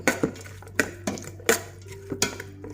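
A spoon clatters and scrapes against a pot while pork skin salad with minced pork and onion is stirred, the pot spinning along; irregular metallic knocks come close and distinct.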